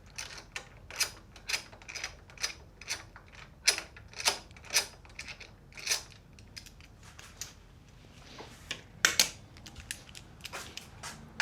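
Repeated ratcheting clicks of a wrench turning a 4 mm bolt on a Yamaha MT-07 intake, close and crisp, in irregular bursts of quick clicks with short pauses between strokes.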